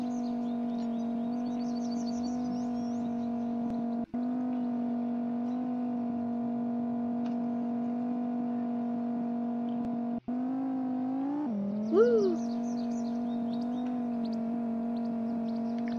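An old-fashioned car driven in a mansion video game, a steady droning engine tone holding one pitch for the whole stretch, briefly dipping and wobbling near the end as chirpy game effects sound, with no talk.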